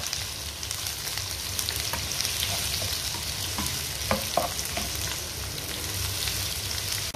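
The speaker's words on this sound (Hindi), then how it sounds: "हम इसमें प्याज डालते हैं" Chopped onions fry in hot oil with green chillies and bay leaves for white pulao, giving a steady sizzle throughout with a few scraping stirs of a spoon near the middle.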